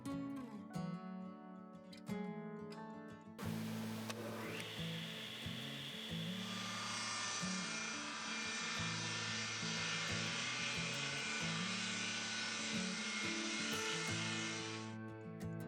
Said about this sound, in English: Today I'm going to rip a sheet of plywood for the width of my bench.